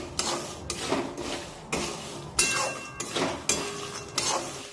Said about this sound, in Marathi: आता हे सर्व जिनस मी फक्त एक मिनिटभर तेलामध्ये छानपैकी परतून घेते